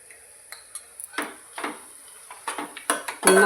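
A spoon stirs mushroom bhaji with coriander powder in a metal pan, making a series of close scraping clinks and knocks with brief pauses between strokes.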